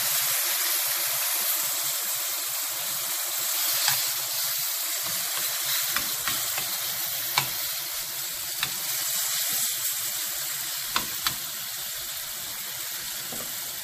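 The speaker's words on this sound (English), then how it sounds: "Now I'm going to add the half a cup of Marcella wine." Half a cup of Marsala wine hits browned beef for stew in a pan over medium-high heat, setting off a loud, continuous sizzling hiss that lasts throughout, dotted with occasional sharp pops and crackles.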